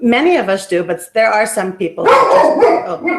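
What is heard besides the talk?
dog barking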